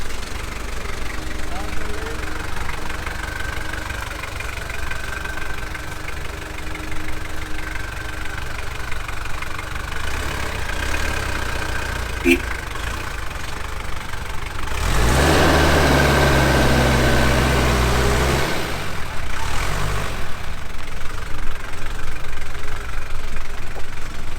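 A Toyota BJ42 Land Cruiser's old diesel idles steadily after being restarted, a rough knocking rumble throughout, growing louder and heavier from about fifteen seconds as it is revved, with people talking over it.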